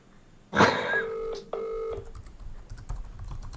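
A phone dials out to place a late-night call, a quick run of distinct electronic tone beeps followed by faint clicks and background noise.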